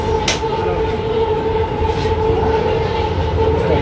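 A Hyderabad metro train runs steadily, with a constant hum of wheels and motors inside the carriage and a brief sharp squeal near the start.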